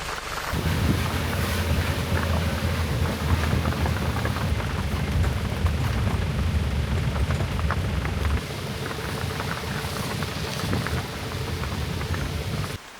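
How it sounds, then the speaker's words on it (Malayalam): Heavy monsoon rain mixed with rushing wind and engine rumble during a jeep safari in Silent Valley, a loud, unbroken roar filling the whole stretch with no talking. "പിന്നെ ആ മഴയത്തായിരുന്നു തിരിച്ചുള്ള യാത്ര."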